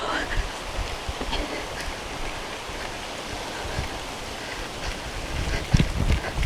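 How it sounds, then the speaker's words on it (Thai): Rain falls outdoors during a day trip in Lopburi, Thailand, as a steady, soft hiss of drops with a few louder patters near the end. "ซึ่งฝนก็มาแล้วด้วย"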